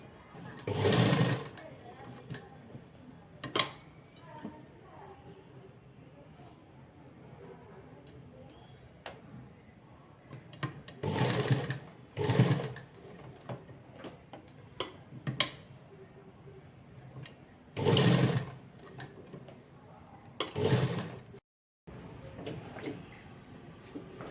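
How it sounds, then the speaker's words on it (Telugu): A sewing machine stitches a scalloped neckline on fabric in several short, separate bursts, with quieter handling noise between them and no talk. "ఇట్లా పైన ఇంకొక స్టిచ్ అనేది వేసేసుకున్నాను"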